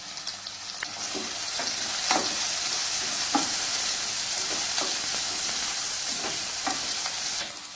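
Onions sauté in a hot pan with salt and asafoetida, giving a steady bright sizzle and hiss with scraping spoon strokes every second or so, close and loud, no voices.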